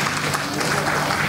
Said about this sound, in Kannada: ಜೋರಾಗಿ ಚಪ್ಪಾಳೆ ತಟ್ಟಬೇಕಂತ ಕೇಳ್ತಾ ಇದ್ದೇವೆ